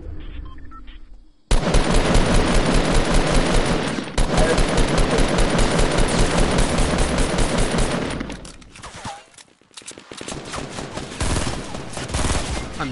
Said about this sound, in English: He got me with the SMG.